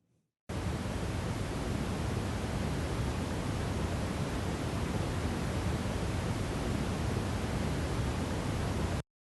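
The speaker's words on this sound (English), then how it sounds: "Next up, brown noise." A steady brown noise test signal, a dense deep rumbling hiss heavy in the lows, starts abruptly, holds at a constant level for about nine seconds and stops sharply.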